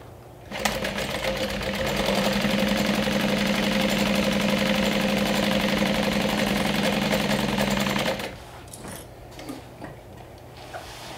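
Sewing machine stitching the sides of a bag lining, a steady motorized whir with fast ticking needle beats running for several seconds before stopping, close and alone.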